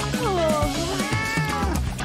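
A cartoon cat lets out a loud, close, drawn-out meow with a wavering pitch, followed by a shorter second cry, alone without talk.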